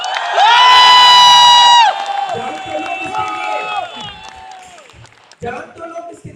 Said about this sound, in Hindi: मैं चाहता हूं कि वापस एक राउंड ऑफ अप्लॉज होनी